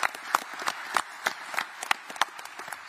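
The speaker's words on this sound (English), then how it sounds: "just round of applause for Josh Taylor" Scattered, individual hand claps at a boxing press conference for Josh Taylor, a thin, uneven smattering of sharp claps from a small group rather than a full crowd.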